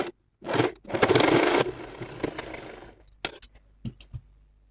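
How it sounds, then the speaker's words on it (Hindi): A sewing machine stitches the corner of a co-ord set in one short, close whirring burst, followed by scattered clicks and light handling noises of fabric and machine. "तो इस तरह से हमने यहाँ पे सिलाई कर लिया है।"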